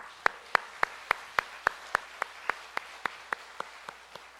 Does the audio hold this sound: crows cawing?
no